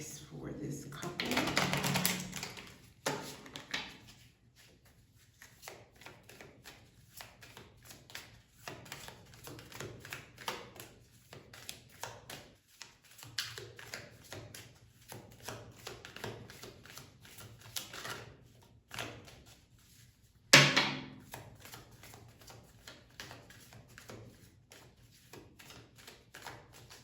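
Angel cards being shuffled by hand for a reading: a brisk riffling burst near the start and another short flurry later, with soft card handling in between.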